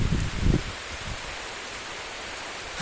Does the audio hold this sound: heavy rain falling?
yes